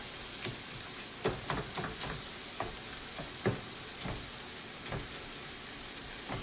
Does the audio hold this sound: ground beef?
yes